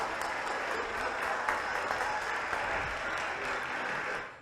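A studio audience on a French TV variety show applauds a singer after his song. The clapping is steady and continuous for about four seconds, moderately loud, then fades slightly at the end.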